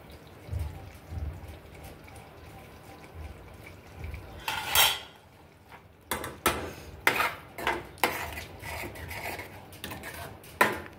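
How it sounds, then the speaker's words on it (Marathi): Paneer being grated: quick repeated scraping strokes against a grater, a short burst then a steady series of rasps, close by with faint kitchen clatter underneath. "वर मी थोडं पनीर किसून टाकणार आहे."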